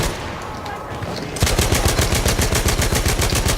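Perino model 1908 light machine gun from Battlefield 1 firing a rapid sustained burst, loud and close, with evenly spaced shots after a short stretch of quieter background.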